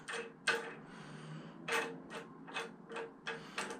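An adjustment knob on a MYX fitness bike is unscrewed by hand, giving a series of faint, close ratcheting clicks and small mechanical turns in short, uneven bursts.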